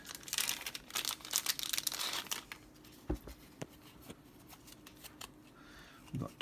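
Cards from a small deck are shuffled and handled close by, producing crisp papery riffles, flicks and crinkles in uneven bursts with a few sharper taps.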